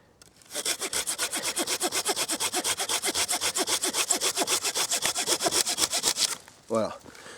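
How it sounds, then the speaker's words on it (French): A Ka-Bar Becker BK7 knife cuts through a wood branch outdoors, making a steady run of quick, rasping back-and-forth strokes, close and loud for about six seconds, then stopping before a brief voice at the end. "je vais vous montrer qu'en très peu de temps, on arrive à couper ce genre de branche"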